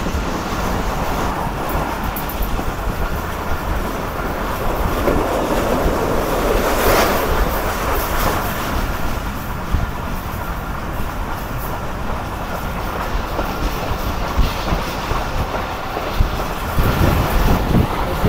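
Karakoram Express running on the rails near Sangla Hill in Pakistan, a steady rumbling roar of an old passenger train in motion, continuous and fairly loud throughout with no breaks.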